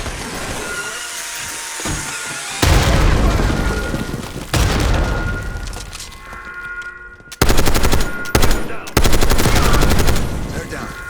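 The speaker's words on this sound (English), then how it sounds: "Grenade!" Call of Duty battle with a grenade blast amid gunfire: loud sustained machine-gun bursts and booming explosions alternate with brief lulls, close and intense.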